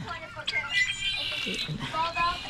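Small birds chirp and tweet near water in a garden, short, clear calls repeating close by while a person talks.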